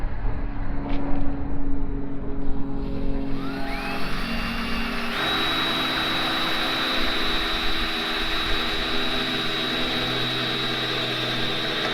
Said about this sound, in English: picked up a hole saw today. So this will help me get that spot drilled there for the body mount bolt heads